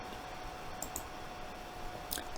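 A computer mouse clicks a few times while cells are selected and copied in an Excel spreadsheet, giving brief, faint, sharp taps at irregular intervals over a low steady room hiss.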